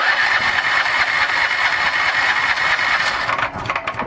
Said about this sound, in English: turn on the supply of gas for the engine and try the starter, see if it will go